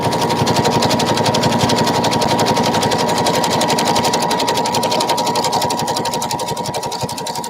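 A sewing machine runs a zigzag stitch along the outer edge of a piece of fabric, giving a loud, steady, rapid mechanical whirring chatter that continues without a break and eases slightly toward the end.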